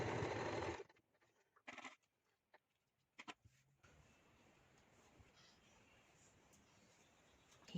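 A sewing machine stitches a fabric headband in short bursts: one opening run, then a few brief stop-start stitches, followed by a quiet room hum.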